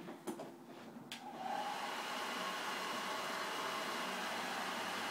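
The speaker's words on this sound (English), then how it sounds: "Actually, I have my heat gun right here. Use that." A heat gun shrinking heat-shrink tubing over a wire connector during a 60-inch Extreme Flight Extra EXP model airplane build: a few clicks and handling noises, then a steady loud blowing roar that starts and holds without letup.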